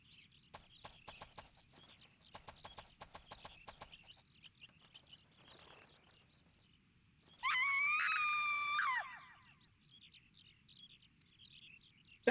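One loud, shrill scream of about a second and a half from a character in the video game InuYasha: The Cursed Mask, rising out of quiet game chirps and clicks, with no talking.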